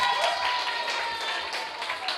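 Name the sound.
audience applause at expo quiz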